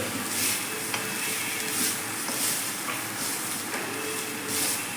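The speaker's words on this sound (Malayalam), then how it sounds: "തീ കുറച്ചിട്ട് പതുക്കെ നമുക്കിതൊന്ന് വറുത്തെടുക്കാം" Chutney ingredients roast on low heat in an iron pan, giving a continuous dense hiss and crackle with faint periodic scrapes of stirring, close and steady, no voices.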